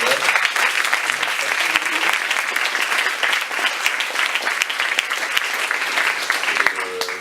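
A conference audience applauds in a long, dense wash of clapping that holds steady for several seconds, fairly loud and continuous, with faint voices underneath.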